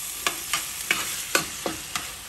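Mutton liver being stirred in a pan with masala, a steady sizzle broken by six evenly spaced scraping strokes of a spoon, close and clear with no voices.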